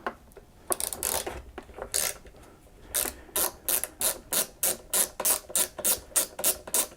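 Ratchet wrench clicking as it backs out an 8mm fastener on a Homelite MightyLite 26b leaf blower, close up: scattered clicks at first, then a steady run of rapid back-and-forth ratcheting strokes.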